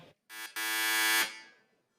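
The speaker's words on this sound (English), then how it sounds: "Buzzer number 2." A quiz contestant's electronic buzzer gives a short blip and then a sustained harsh buzz of about a second before fading, loud and alone.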